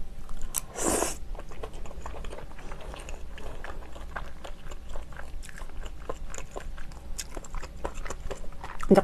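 Close, wet chewing and crunchy bites of steamed shellfish, including king clam, scallops and whelk, in a Korean jogaejjim mukbang, with repeated mouth sounds and one sharp crackling burst early on.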